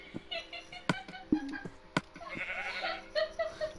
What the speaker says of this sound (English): Oh, the way you killed the sheep?